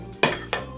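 A utensil stirs a slime mixture in a bowl, giving two short scraping clinks in quick succession, close and fairly loud.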